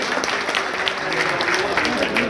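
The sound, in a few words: crowd applauding to welcome a politician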